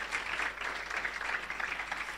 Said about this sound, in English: let's give you a big round of applause for that